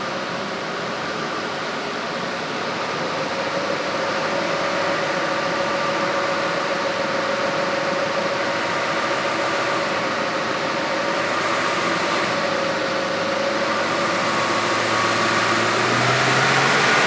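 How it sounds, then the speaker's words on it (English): Toyota Land Cruiser 300 Series engine running on a dyno, a steady loud broadband drone with a low hum and a slight rise near the end, no voices. "it's over to Gareth for a run on the dyno."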